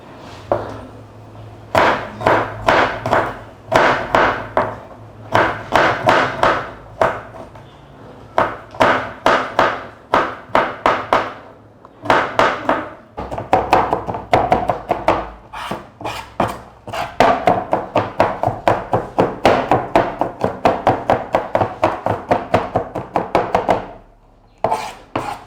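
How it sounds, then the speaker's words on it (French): A knife chops garlic on a cutting board in rapid, even taps, close and crisp, running in long bursts with short pauses and no talking. "Après nos oignons, nous allons enfin hacher notre ail."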